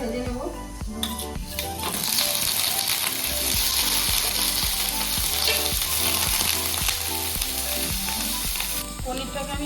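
Paneer pieces fry lightly in hot oil for a chole paneer dish, a steady broadband sizzle running throughout with scraping and clinking from stirring, under background music.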